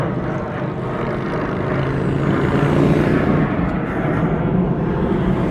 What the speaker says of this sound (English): there's another plane overhead